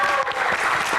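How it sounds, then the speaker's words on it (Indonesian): An audience at a live Q&A with a band breaks into applause, a dense, steady wash of many hands clapping that fills the whole moment, with a voice faintly under it. "Tepuk tangan sekali lagi."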